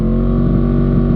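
A new motorcycle engine revs loudly and steadily at close range, a dense, sustained roar that holds for just over a second with no voices.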